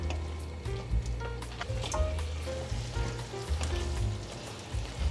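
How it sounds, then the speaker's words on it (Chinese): Baby corn and lotus root are stir-fried in a pan, giving a steady sizzle and frying crackle with scattered scrapes and clinks of the spatula against the pan throughout. "给玉米笋炒均匀"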